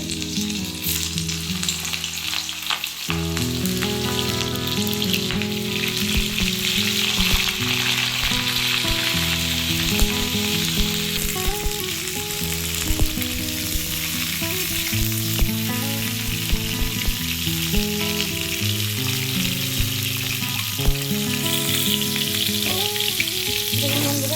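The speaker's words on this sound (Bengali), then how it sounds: "এবার এই তেলের মধ্যে আমি ফুলকপিগুলো ভেজে নেবো" Cauliflower pieces frying in hot mustard oil in a wok, a steady loud sizzle and crackle that runs without a break, with layered tonal sounds over it throughout.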